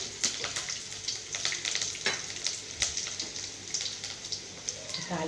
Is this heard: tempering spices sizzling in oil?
yes